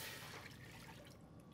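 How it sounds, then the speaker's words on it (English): Water poured into a preheated saucepan at the start of a poaching liquid for salmon, a brief, close, steady splashing pour with a soft liquid hiss. "Some water can go into a preheated saucepan."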